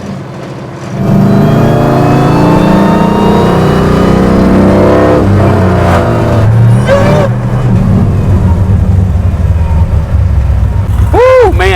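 A Hellcat-swapped 1972 Dodge Demon roars up to speed, its engine pitch climbing through repeated surging gear pulls, loud and close from inside the car, with voices talking over the noise.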